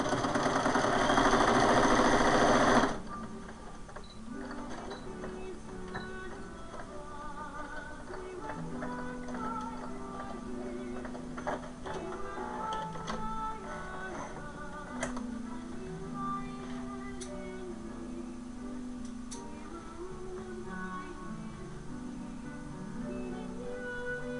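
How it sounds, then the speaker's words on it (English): A sewing machine runs a straight stitch on a doll's hospital gown, a steady mechanical whir after a short loud burst at the start, then continuing with faint ticking and clatter throughout. "now my straight stitch is going to back up on its own"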